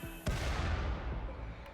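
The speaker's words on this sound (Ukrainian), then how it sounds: "Детонація пройшла." A shell detonates in the Rimworld video game with a sharp, loud boom followed by a rumbling, slowly fading tail.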